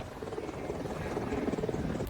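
A combat helicopter drones steadily with a low, churning rotor rumble, fairly faint and distant, continuing without a break.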